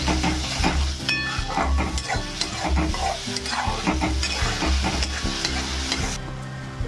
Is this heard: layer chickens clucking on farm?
no